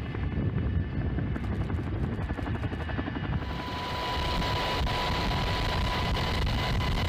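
A firefighting helicopter flies with a Bambi bucket suspended on a long line beneath it, a steady loud rotor roar and broadband wash filling the whole stretch without pause.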